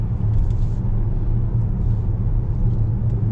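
Peugeot 5008 GT with the 180 hp engine and EAT8 automatic gearbox driving, a steady, loud low engine rumble filling the cabin throughout, with no distinct breaks marking the gear changes.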